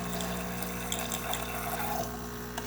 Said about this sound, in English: nice steady stream coming out of the machine